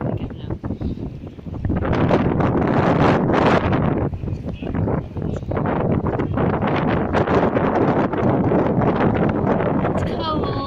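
Strong, cold wind at the Liverpool waterfront by Royal Albert Dock buffets the microphone in loud, roaring gusts that build after a quieter start and stay rough and continuous, with faint voices mixed in.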